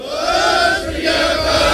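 A crowd of protesters outside an Indian consulate roars back a Sikh slogan response in a loud, sustained collective shout against Bhai Amritpal Singh's arrest.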